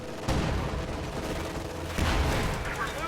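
Heavy machine gun firing in a World War II tank battle strategy game, sustained bursts of gunfire with booming impacts, loud and continuous beneath the game's action.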